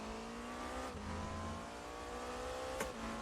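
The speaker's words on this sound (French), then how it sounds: "je trouve qu'il colle parfaitement au vrai bruit de la voiture dans la vraie vie" Engine drone heard from inside the car in the RaceRoom racing game, a steady harmonic hum with a brief higher whine spike near the end, heard alone.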